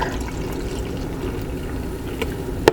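Coca-Cola Energy drink pours into a glass in a soft, steady trickle with faint fizz, followed by a sharp clink near the end.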